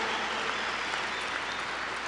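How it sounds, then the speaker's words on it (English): A crowd at a law school commencement claps steadily, a dense, even wash of applause filling the hall without a break. "Give them a round of applause."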